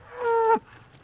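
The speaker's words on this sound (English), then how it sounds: "All these cows have had their children taken away from them several times" A single cow on a dairy farm gives one loud, drawn-out moo lasting about half a second, close by, dropping to a low grunt at the end before quiet background.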